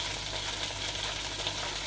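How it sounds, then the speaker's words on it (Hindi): Sliced onions fry in a pan over medium-low flame with whole spices for an Amritsari chicken curry, giving a steady, even sizzle with no pauses, close and moderately loud, no one talking. "जब तक हमारे अनियंस फ्राई हो रहे हैं"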